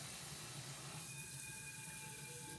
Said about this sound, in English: add some more water in it to get my little seasonings from the bottom